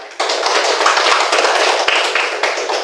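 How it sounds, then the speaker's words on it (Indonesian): Classroom applause for a student at an Indonesian elementary school, a dense, steady patter of many small hands clapping together at close range, continuous and even for nearly three seconds with no talk over it. "tepuk tangan dulu buat dia"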